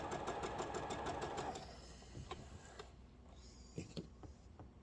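A sewing machine stitches quilt pieces together at a fast, even rhythm for about a second and a half, then slows to softer, scattered mechanical clicks as the seam is finished. The sound is close, with no talking.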